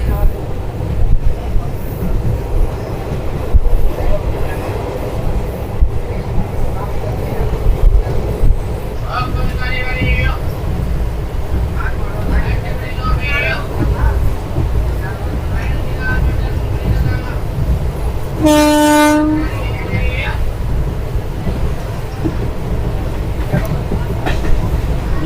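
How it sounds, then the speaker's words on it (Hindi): A Mailani–Pilibhit passenger train rolls along after departing a station, a continuous low rumble with wind buffeting, a brief horn-like tone partway through, and voices over it. "अभी प्रसादपुर को हमारी ट्रेन ने लीव किया है, यानी कि वहाँ से डिपार्ट हुई है"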